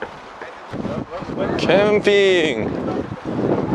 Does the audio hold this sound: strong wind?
yes